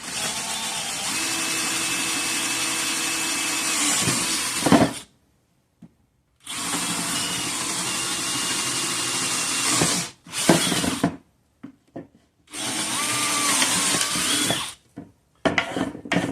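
A power drill bores holes through a wooden lowrider skateboard deck in several loud, close bursts of whining motor and grinding bit, separated by short silent pauses.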